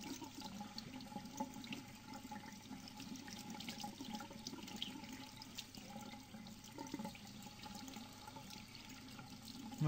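Lukewarm tap water runs steadily into a sink while a sheet of paper is rinsed under it, a continuous soft gurgling splash with small shifts and no talk.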